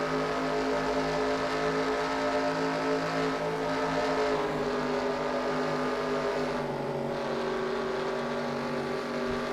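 Race cars at Rockingham Motor Speedway in a racing video game, a continuous droning engine whine with layered tones shifting pitch as cars run together, steady and fairly loud.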